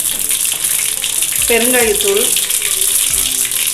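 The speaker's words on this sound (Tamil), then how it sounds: "நல்லா எண்ணெய் காஞ்சிருச்சு, கடுகு சேர்த்துடலாம். கடுகு பொரிஞ்சிருச்சு, சீரகம் சேர்த்துடலாம்." Mustard seeds and cumin crackle in hot oil while tempering spices for a Tamil ridge gourd kadaisal, a steady bright sizzle running throughout with a brief spoken word over it.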